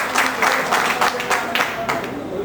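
Audience clapping at a community meeting in a hotel hall, a burst of applause that swells in uneven waves with some individual claps standing out, fairly close and loud, then tapering off.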